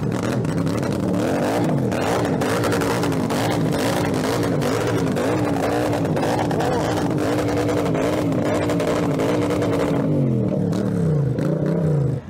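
A supercharged Triumph bobber motorcycle engine idles loud and close, with a rough, pulsing rumble and repeated throttle blips as it revs.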